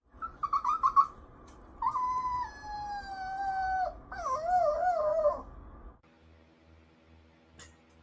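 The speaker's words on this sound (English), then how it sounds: "His little howl is so cute, man." Little dog howling: short yelps give way to long, wavering, sliding howls that stop abruptly, followed by near quiet and a faint click, heard close and alone.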